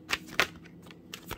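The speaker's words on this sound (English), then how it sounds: "So let's get one more shuffle for this person" Tarot cards being shuffled by hand, heard as a few quick riffling bursts close up, with two sharp flurries early and two more near the end, no talking.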